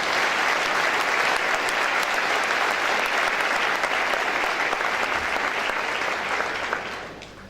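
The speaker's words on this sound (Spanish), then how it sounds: "el fuerte aplauso al Señor." A church congregation at a pastors' conference gives strong, sustained applause, a dense wash of many hands clapping that holds steady and then fades toward the end.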